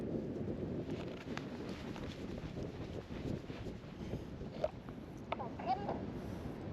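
Wind buffeting a paraglider in flight over Wildschönau, Austria, a continuous low rumbling roar against the microphone with a few faint clicks, steady and close throughout.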